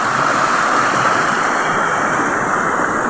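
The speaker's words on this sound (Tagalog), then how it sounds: "Grabe yung ulan, no?" Heavy rain pours down on a farm during a storm, a dense continuous hiss that stays loud and even throughout with no voices.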